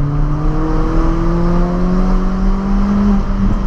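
Peugeot 206 RC petrol engine revs above 4000 rpm, a loud, steady harmonic drone with its pitch climbing slowly and evenly, heard up close from inside the car with no talking.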